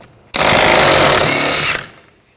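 An impact wrench on a 32mm socket removes the rear axle nut of a 2013-2019 Ford Escape with one loud, steady burst of rattling hammering lasting about a second and a half, then stops, with no talking.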